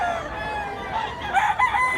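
A gray rooster belonging to an old man at a Cebu game-fowl gathering crows in a drawn-out call that rises toward the end, close and moderately loud against a busy crowd background.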